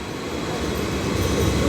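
Train at a station platform in the Netherlands, a steady loud rumble and rolling wheel noise filling the short stretch without a break, with no voices.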